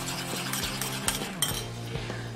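Metal spoon clinks and scrapes against a pan while milk powder is stirred into milk for rabdi, in quick uneven strokes, close and fairly loud, with no talking.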